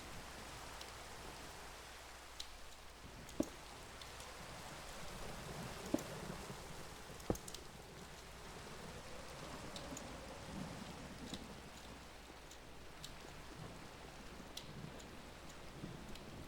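Rain falling in the video game Minecraft, a faint, steady hiss of rainfall with a low rumble beneath and a few isolated sharp ticks.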